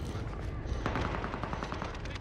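Rapid gunfire in a Fortnite-style shooter game, a dense burst of repeated shots crackling loudly and continuously for a couple of seconds.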